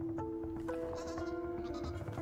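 A goat monster in the video game Creaks gives a sustained, wavering bleat, loud and close, with a steady game tone in the background.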